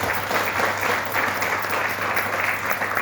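An audience claps steadily for about three seconds, a dense, even wash of applause with no voices on top.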